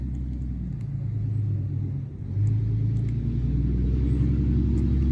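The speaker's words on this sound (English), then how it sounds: "There's surprisingly a lot of traffic that goes up and down this road." Road traffic passes on a rural road near the Aurora ET grave site, heard as steady low engine rumble with a car swelling louder midway, without talk.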